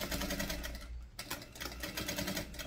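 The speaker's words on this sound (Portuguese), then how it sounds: "vamos passar nossa costura de segurança na ponta" A sewing machine runs a safety seam along the edge of a baguette bag, a fast steady stitching rattle heard close, briefly pausing before resuming.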